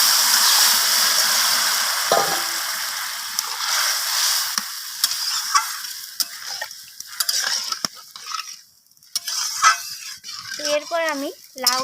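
Bottle gourd simmering in a pan, a soft bubbling sizzle that fades over time, with a few utensil clinks and a voice speaking over it near the end.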